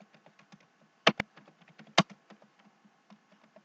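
Light, even keystrokes on a computer keyboard tap along steadily, broken by two louder, sharper key strikes. The typing is close and clear, with no voices.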